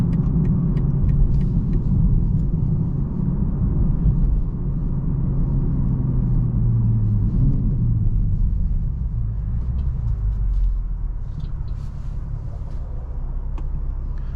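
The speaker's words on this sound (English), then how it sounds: "So we'll accelerate onto the highway with it" A 2023 BMW M240i in sport mode accelerating onto a highway, heard from inside the cabin as a steady, deep exhaust rumble and engine drone that rises in pitch and then eases, with no talking.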